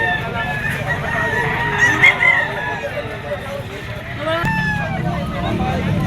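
A rooster, a bull stag gamefowl at a poultry sale in Lipa, crows over someone speaking, with other fowl calling nearby and a second crow near the end.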